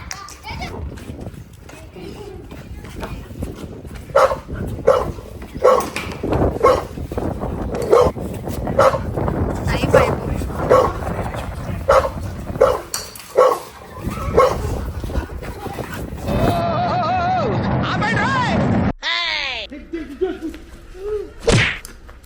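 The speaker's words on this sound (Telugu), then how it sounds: "మా కుక్క గైస్" A pet dog barking in a home during a prank: repeated sharp barks in an irregular series, close and loud, mixed with excited voices and chatter, followed by a stretch of different noisy sounds.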